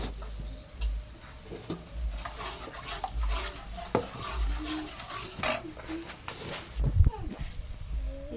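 Momo chutney frying in a pan with a spatula stirring and scraping in an uneven rhythm, a soft sizzle underneath and occasional clinks of utensil on pan, close by.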